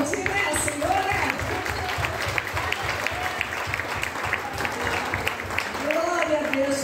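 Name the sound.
audience applause in church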